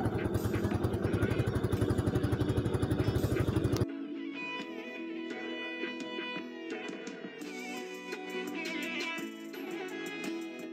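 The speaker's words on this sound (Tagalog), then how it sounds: "Ito yung motor sa dagat." A small boat motor chugs loudly for about four seconds by a pier at night, with many small fishing boats out on the water, then gives way to quieter mixed clatter and ambient noise.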